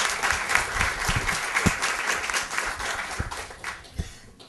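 Steady applause from a seated audience welcoming a lecturer at a university law talk, dense clapping filling the room for several seconds with a few louder individual claps standing out, no speech over it.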